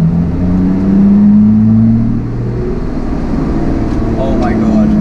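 A Lotus Exige Sport 380 with its exhaust valve open drones loudly as the engine pulls and revs, the pitch climbing then dropping and rising again while driving, heard from inside the car.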